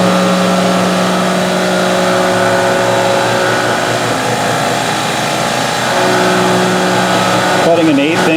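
A CNC mill cuts an aluminium wheel adapter with a slightly dull half-inch three-flute cutter taking an eighth-inch-deep pass, producing a loud, continuous tonal whine and chatter close by, with a shifting sweep near the end.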